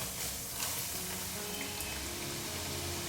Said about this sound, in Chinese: 油温5、6成热就可以放进来炸。